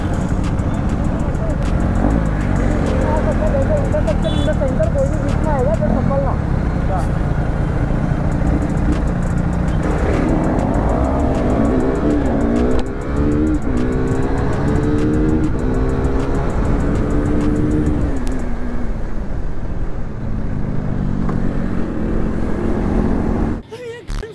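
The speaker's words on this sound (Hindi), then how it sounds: "Okay I guess a drag race is about to go down." Royal Enfield Continental GT 650 fitted with an SS Motocorp exhaust in a nighttime drag race. A loud, continuous engine roar rises and falls in repeated rev sweeps, with a voice talking over it.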